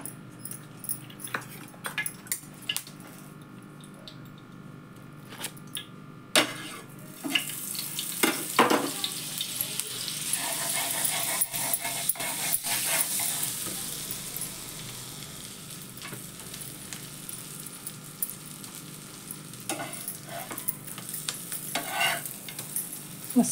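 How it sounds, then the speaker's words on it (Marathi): Dabeli filling roasting in butter and a little oil in a pan for Kutchi dabeli, a steady close sizzle with scraping stirs and utensil clicks throughout, no voices. "आता हे आपण बटरवर भाजून घेऊ मस्त. थोडंसं तेल घालते"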